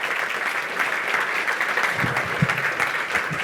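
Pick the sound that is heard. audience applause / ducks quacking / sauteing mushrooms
audience applause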